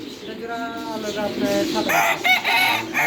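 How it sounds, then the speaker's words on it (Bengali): In a bird shop, a rooster gives one loud drawn-out crow nearby, followed by rougher squawking calls, with faint background bustle behind it. "ওই যে মোরগ মোরগ"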